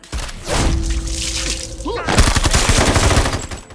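Gunfire erupts in a brutal crime-thriller film scene: loud, rapid bursts and cracks follow a tense stretch of music and voices, then pile densely on top of one another.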